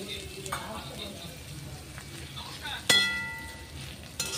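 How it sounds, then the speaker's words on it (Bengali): Potato and pointed gourd peels coated in flour and chili powder fry in a pan with a steady soft sizzle, broken by a few utensil clinks and one sharp metallic knock near the end; faint voice in the background. "পটলের আর আলুর খোলা একটু ময়দা দিয়ে লঙ্কার গুঁড়ো দিয়ে ভাজা করছি"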